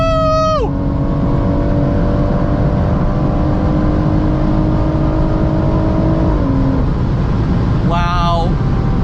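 A 665 hp BMW M140i xDrive pulls hard on the autobahn, its engine note climbing through long gears with brief shift breaks, loud and close inside the car amid heavy road and wind roar.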